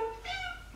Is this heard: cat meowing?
yes